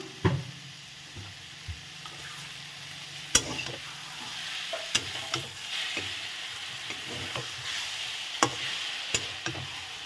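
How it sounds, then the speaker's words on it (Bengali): A mankochu ghonto with pickle, roasted spice powder and chopped coriander gets stirred in a pan. Repeated spatula scrapes and clacks sound over a quiet continuous sizzle, with no voices. "তো এখন আমি এটাকে ভালো করে নেড়ে নেব।"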